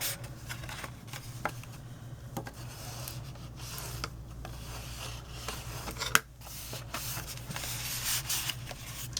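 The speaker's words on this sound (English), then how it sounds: "I'm going to go in with my bone folder and make sure that's nice and press down." A bone folder presses and creases the folded sides of a small paper hot cocoa treat box, making close, repeated dry rubbing and scraping strokes with a few sharper crackles of paper, with no talking.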